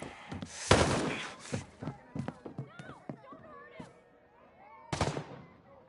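Gunfire in a PS4 video game, scattered sharp shots and bursts, a couple of them loud and close, mixed with other game noises and heard alongside voices talking.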